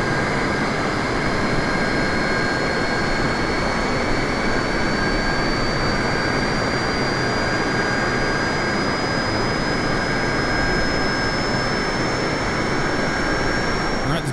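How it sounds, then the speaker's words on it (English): Engine noise from a Boeing 747 starting up in Microsoft Flight Simulator: a loud, steady broadband roar with a slowly rising whine that holds for the whole stretch, with no speech over it. "Let's start engine number one. And engine one starting."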